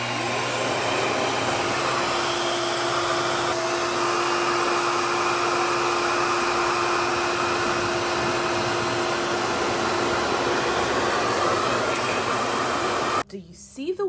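A hair dryer blows heat onto hair, a loud, continuous close whooshing roar with a steady whine that runs unbroken for most of the stretch, then cuts out abruptly near the end.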